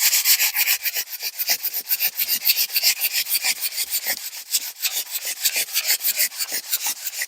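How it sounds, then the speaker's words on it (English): Sandpaper wrapped around a guitar pedal foot switch, rubbed back and forth in quick, steady strokes; a close, continuous rasping scrub with no talking. "you just wrap the sandpaper around your foot switch"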